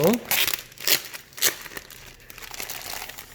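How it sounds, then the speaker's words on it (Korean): Plastic bag being torn open at the start of a simple telescope-making kit unboxing: a few sharp crinkling, ripping bursts close up, fading into softer rustling. "일단 봉지를 한번 뜯어볼게요"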